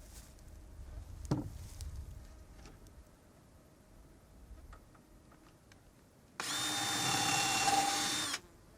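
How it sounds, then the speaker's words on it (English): A power drill bores a screw hole into wooden boards for a cold frame, one steady whirring burst of about two seconds near the end, following a quiet stretch with a few light knocks. "I'm going to use one drill to drill the hole for the screw"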